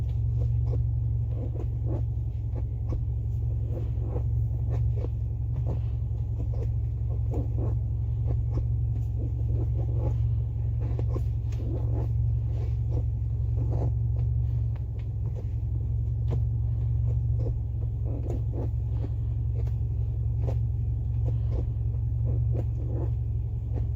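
A Subaru Legacy fitted with a DIY short throw shifter drives along, a steady low engine and road rumble inside the cabin, with faint light clicks and knocks over the drone.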